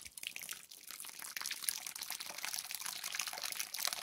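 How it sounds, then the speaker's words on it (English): Gravity-fed water running passively from a hose nozzle set to shower mode in a thermal mass greenhouse, a steady close hiss and trickle with faint drips and no spray pressure. "hook up the passive water flow so the hose comes down, goes up around."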